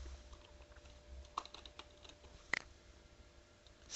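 Keys tapped on a computer keyboard to type a name, quiet scattered clicks with a couple of sharper strokes, close and faint over a low background hum.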